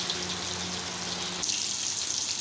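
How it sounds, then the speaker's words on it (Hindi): Chicken gilafi kebabs fry on a flat tava griddle over very low heat, a soft, steady sizzle with faint crackle that continues alone. "तो अब हमने इसको बिल्कुल हल्की आंच पे जो है इसको फ्राई करेंगे"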